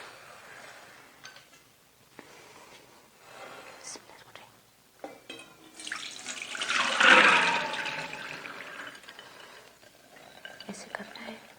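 Soaked chana dal lentils being rinsed in water in a kitchen, quiet sloshing and splashing that builds to a louder swirl of water in the middle, with soft speech in between.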